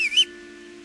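A short, thin two-note whistle in the video game Kingdom Come: Deliverance, then a steady electronic drone with faint tonal hum underneath.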